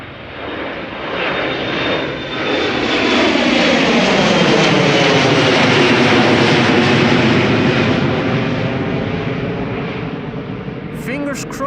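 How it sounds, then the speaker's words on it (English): An Embraer 175 jet takes off at Amsterdam Schiphol Airport, its engine roar swelling into a broad, loud rumble that holds for several seconds and then slowly eases off as it departs. "2 Embraers taking off first, an Embraer 175 and an E2 Embraer next after that"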